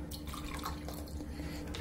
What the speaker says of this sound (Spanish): Lo primero que vamos a hacer es agregar 200 mililitros de agua en un envase.